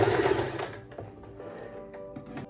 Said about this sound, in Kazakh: Мына петляны қазір тігіп шығамыз.